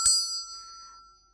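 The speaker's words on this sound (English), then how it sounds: "hit the notification bell" A bright notification-bell ding, one sharp metallic strike that rings out clearly and fades over about a second into silence, alone with no talk.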